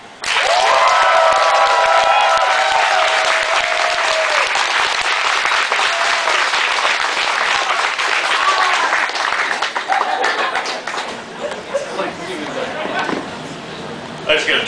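A concert audience in Amsterdam applauds loudly and continuously, dense clapping with some cheers and whistles near the start, tapering slightly toward the end as a voice speaks over it.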